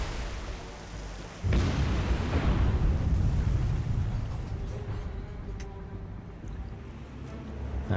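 Naval gunfire in the War on the Sea naval combat game: after a quiet stretch, one heavy shell boom erupts, followed by a long rumbling roll that slowly fades into a low, distant background.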